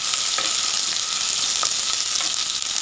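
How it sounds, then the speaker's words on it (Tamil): Green chili and shallots sautéing in a pan for spinach soup: a steady, loud sizzle with soft stirring scrapes now and then, close by and free of talk. "பச்சை வாசனை போகிற வரையும் நல்லா வதக்கிக்கோங்க"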